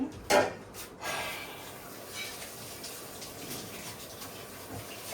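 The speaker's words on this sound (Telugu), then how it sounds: "నీళ్ళు పోసి అట్లా కడిగి సబ్బు పెట్టాలి" A cooking pot is rinsed and scrubbed with water in a home kitchen, giving a soft, continuous wash of running water with a sharper clatter near the start, fairly quiet throughout.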